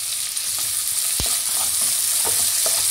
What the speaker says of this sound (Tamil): வெங்காயம் வந்து வதங்கிடுச்சு